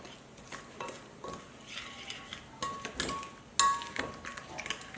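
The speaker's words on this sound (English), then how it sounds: "So now I will mix up the ingredients uniformly" Chicken, potato and onion pieces being stirred together in a dish, soft scraping and light clinks of a utensil against the container in irregular bursts, fairly quiet.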